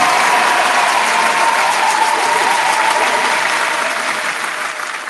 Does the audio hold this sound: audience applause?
yes